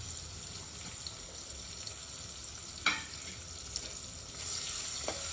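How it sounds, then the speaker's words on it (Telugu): Chopped onions and curry leaves fry in hot oil with a steady, crackling sizzle, a few sharper spits near the middle and a louder burst of hiss toward the end, with no voices. "చిన్నగా కట్ చేసుకున్న ఆనియన్స్ వేస్తున్నాం కరివేపాకు"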